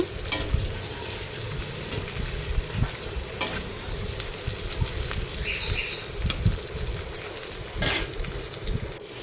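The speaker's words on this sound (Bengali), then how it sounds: "সব পেঁয়াজগুলো দিয়ে লাড়িয়ে ছাড়িয়ে নিলাম এবার মোটামুটি লালচে লালচে করে ভেজে নেব" Onions frying in a pan crackle and sizzle continuously, with scraping and clinks from a spatula stirring them at intervals, close and fairly loud throughout.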